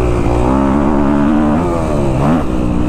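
A 2021-era Kawasaki KX250F dirt bike engine revving hard and close, a loud continuous four-stroke drone with pitch that wavers and surges up near the end, with no talk over it.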